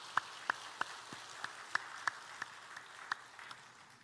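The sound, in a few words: church congregation clapping hands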